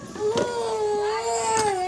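A young boy cries and sobs in a wailing, sustained tone, close and loud, with a couple of sharper sobbing bursts.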